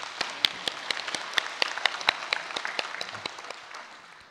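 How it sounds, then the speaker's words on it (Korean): A church congregation gives Easter applause, with sharp individual claps standing out over a thinner spread of clapping that tapers off. "우리 다시 사신 예수님께 박수로 영광 올리겠습니다"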